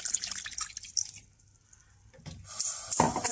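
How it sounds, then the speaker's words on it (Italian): Water poured from a tap or jug into a pan of sausages, a splashing, dripping rush that starts near, drops to a quiet lull and then surges again louder at the end. "Metto dell'acqua."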